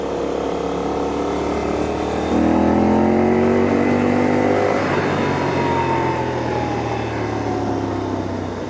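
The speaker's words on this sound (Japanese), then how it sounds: "ちょっとスロットルを大きめに開けると、猛然とそのドロドロとしたトルク変動を伴いながら加速するといった感じ" A Honda Hawk 11 motorcycle accelerates hard on a mountain pass, its engine note rising in pitch through gears with a loud, throbbing exhaust drone and heavy wind rush.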